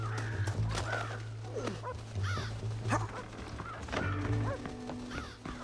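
Crows cawing in the Red Dead Redemption video game, several harsh repeated caws scattered near and far over a steady low drone and outdoor ambience.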